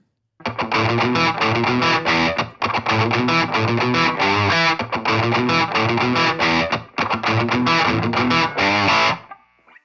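Heavily distorted electric guitar through a Nux Plexi Crunch distortion pedal plays chunky 1970s-style rock riffs in rhythmic bursts, loud and close, with brief gaps between phrases and a ringing final chord.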